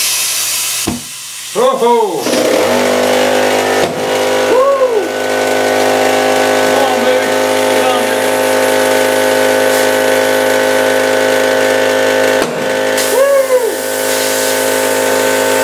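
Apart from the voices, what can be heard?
air gun nozzle blasting air into a tire to seat the bead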